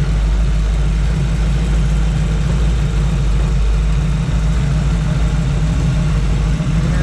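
A 1961 Chevrolet Corvette convertible idles smoothly, its engine holding an even, deep, close-up rumble without knocking or revving, no voices present.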